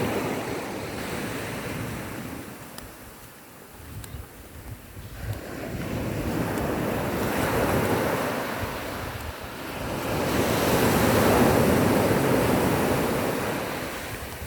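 Ocean waves wash onto Matawe Beach in broad, rolling surges, swelling and fading with a constant roar and some wind noise.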